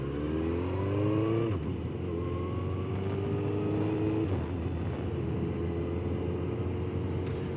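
A motorcycle on a training ride pulls away from a junction and accelerates, its engine note climbing steadily through a couple of gear changes, loud and continuous under wind rumble with no talk.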